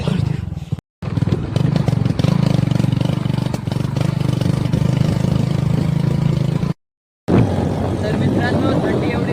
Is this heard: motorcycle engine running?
yes